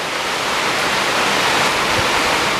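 Heavy rain pours down during a thunderstorm, a loud, dense, unbroken hiss of water filling the whole clip with no voices.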